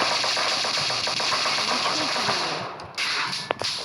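Rapid gunfire from a shooting video game crackles in dense bursts throughout, with a brief lull near the end before a few sharper shots ring out.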